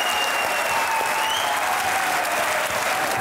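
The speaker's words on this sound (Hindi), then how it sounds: "आपकी भरपूर तालियों में" Studio audience applause welcoming TV anchor Muneeb Farooq as a guest, loud, dense and unbroken clapping from a large crowd that holds steady from start to finish.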